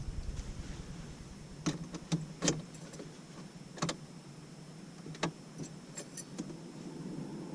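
A set of car keys jangles in several sharp, close metallic bursts inside a car during a driving lesson, separated by quieter pauses over a low cabin hum.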